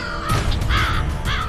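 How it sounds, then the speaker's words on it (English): Crow cawing in harsh, rasping calls, two or three loud close caws in quick succession over faint background noise. "The crow's got urban street smarts too."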